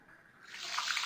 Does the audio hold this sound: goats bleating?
no